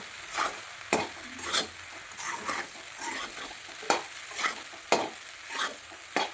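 Food stirred and mixed in a pan for a leftover millet bhakri breakfast, with irregular scraping and clattering strokes over a soft background sizzle, close by and without talk.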